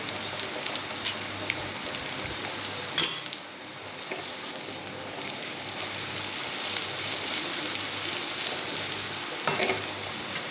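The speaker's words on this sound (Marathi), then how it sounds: "चांगली परतून घेऊया एक चमचा लहान हळद" Chopped green chillies and turmeric sizzle and crackle in hot oil in a pan, a steady frying hiss with a brief clatter near the start, no voices.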